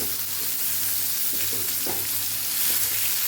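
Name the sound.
sautéing ivy gourd (tindora) sambharo in a pan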